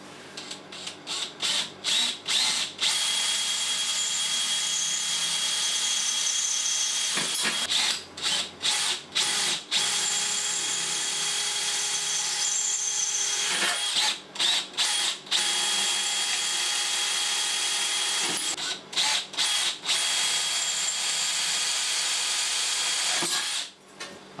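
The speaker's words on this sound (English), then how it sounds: "I'm just going to drill through with a 6mm drill bit" A power drill whines loudly and steadily, stopping and restarting several times in short bursts, close up, with no talking.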